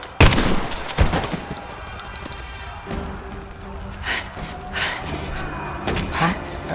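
Rise of the Tomb Raider combat in a geothermal valley village: sharp gunshots crack loudly at first, then scattered shots and thuds ring out amid the battle while voices speak.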